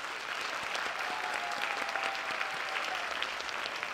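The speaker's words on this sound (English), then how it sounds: "Let's give them a round of applause." An audience at a high school chorus and orchestra concert applauds the chorus and orchestra directors, a steady, moderately distant wash of clapping for a few seconds.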